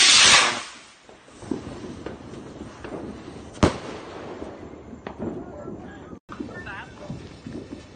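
A 100-shot Christmas firework cake fires outdoors: a loud opening burst fades, then scattered pops and sharp cracks follow at uneven intervals, some nearer and louder, with people talking throughout.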